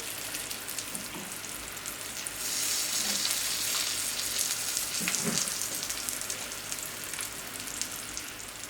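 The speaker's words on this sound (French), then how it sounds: "Pendant ce temps-là, sur les bords, je vais cuire les petits poivrons." Small peppers frying along the edges of a pan beside Iberian pluma pork, giving an even, moderately quiet crackling sizzle that swells midway and keeps on without speech.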